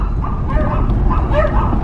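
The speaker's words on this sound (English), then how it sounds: "I'm getting barked at." A dog yips and barks a few times nearby, short and sharp, over steady low rumbling wind or engine noise from a car on a Wyoming back road.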